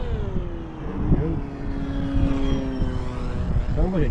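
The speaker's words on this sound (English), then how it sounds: "That 9-inch prop sounds nice." RC plane motor spinning a 9x6 folding propeller on a Kopaqi 950mm flying wing, a loud, close, buzzing whine that rises and falls in pitch as the throttle changes, with voices talking over it.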